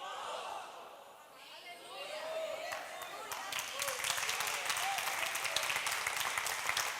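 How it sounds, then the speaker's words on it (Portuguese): A church congregation claps for the word of the Lord during a worship service, the applause building from a soft start into a steady, dense wash of many hands with faint voices and shouts mixed in. "Forte esse aplauso à palavra do Senhor."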